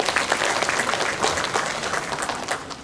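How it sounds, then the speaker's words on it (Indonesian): A crowd applauds steadily at a book launch for GKR Hemas, the dense clapping sustained and fairly loud throughout without breaks. "Kita tepuk tangan buat beliau ya."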